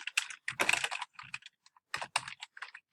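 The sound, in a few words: typing a project title on a computer keyboard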